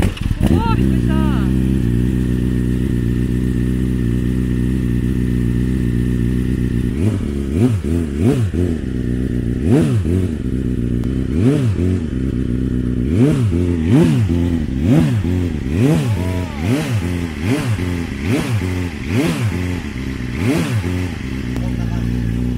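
A Yamaha XJR400 motorcycle engine runs loud and close while warming up, settling into a steady idle before a series of rhythmic revs and blips; people talk over it.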